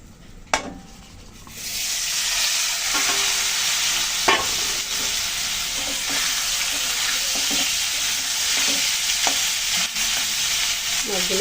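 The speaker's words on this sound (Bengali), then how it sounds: "মাছগুলো ভালো করে একটু ভেজে নেব।" Eel fish frying in hot oil in a pan, a steady loud sizzle that starts after an initial clatter and continues throughout, with occasional utensil taps and stirring, close up and without talking.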